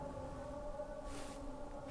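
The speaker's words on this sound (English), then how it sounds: "So this is the call for prayers." Friday call to prayer rising in the background, a sustained melodic voice with steady tonal bands carrying through distant ambient noise, unbroken across the whole moment.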